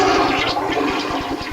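A toilet flushing in a bachelor-pad bathroom, a loud close rush of water with a gurgling, pulsing swirl that holds steady for its whole short length, with no one speaking.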